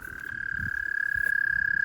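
A frog croaks nearby in a night chorus, rhythmic pulsing calls repeating quickly under a steady high-pitched trill, fairly loud and close.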